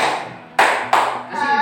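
Two sharp group hand claps sound in quick succession from a classroom coaching session, the counted clap rhythm set off against a quieter murmur of voices before and after.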